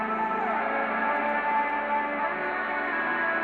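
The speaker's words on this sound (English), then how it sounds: "to add a little bit of color and melody to it, I recorded another guitar lead, and it sounds like this." A recorded lead guitar plays a melodic line over a pop punk beat, made in Ableton Live 11, steady and moderately loud with sustained notes and no talking.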